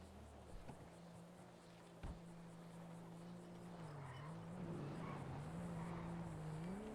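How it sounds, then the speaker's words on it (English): Cars and race cars in a game drive past with tire squeal and skidding, engine tones rising and falling over several seconds, faint, with a sharp knock early on. "I hear cars driving on the way."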